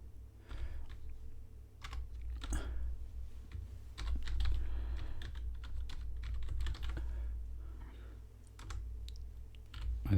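Code is typed on a computer keyboard in a quiet room, giving soft, close, irregular key taps and clicks over a low steady background hum.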